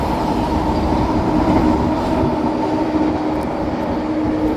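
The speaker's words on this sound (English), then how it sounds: "Eastbound and westbound SkyTrain meet." Eastbound and westbound SkyTrain cars pass each other on an elevated track, a loud continuous rumble and rail roar that holds steady throughout, with no talking.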